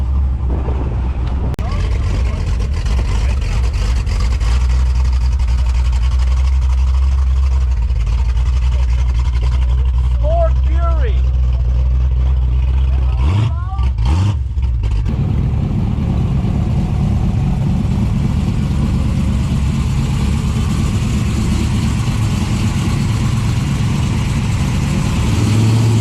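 A hot rod's small 327 engine runs at a steady idle with a low, continuous rumble, accompanied by brief clanking noises and a short dropout partway through.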